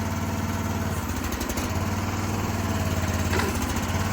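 The small diesel engine of a Chinese mini excavator, just started after hydraulic oil was added, runs with a steady, rapid chugging hum close by, with no talking.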